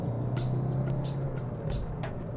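A Honda Amaze 2020 car engine accelerating in gear after a downshift to second, a steady droning hum with a low engine tone under road and cabin noise, close and continuous.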